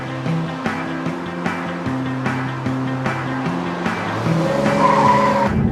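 A 2013 Audi A5 coupe with a turbocharged engine accelerates hard, its engine note climbing through several gear changes with short dips between shifts, loud and close from inside the car.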